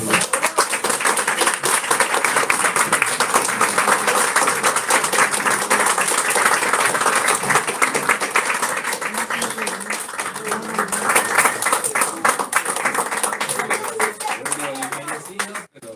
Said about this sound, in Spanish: Bueno, agradecemos un aplauso.